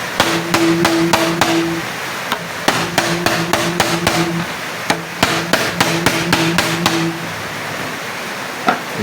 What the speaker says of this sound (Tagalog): Try natin pokpokin. Ito, yung ating pamukpok.